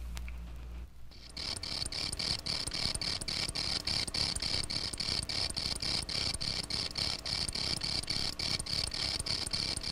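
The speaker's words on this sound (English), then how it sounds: "the field cricket has another, much different song, which it sings only in the presence of a female field cricket" A field cricket sings its courtship song, a steady run of soft, evenly spaced chirping pulses that repeats close by and continues without pause.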